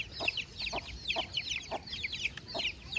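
A mother hen and her baby chicks on an evening walk, the hen giving low rhythmic clucks under a steady stream of high, fast chick peeping, close and fairly soft outdoors.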